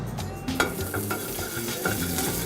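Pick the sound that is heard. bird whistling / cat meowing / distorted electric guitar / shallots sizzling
shallots sizzling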